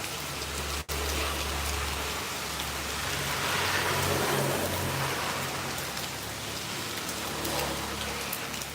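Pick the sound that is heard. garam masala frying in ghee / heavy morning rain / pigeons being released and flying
heavy morning rain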